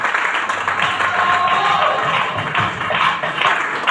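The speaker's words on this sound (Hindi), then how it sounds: "इसके लिए चाहेंगे जोरदार ताली होना चाहिए।" Dense, steady clapping from an audience at a health awareness show, a continuous loud patter of many hands with some voices mixed in.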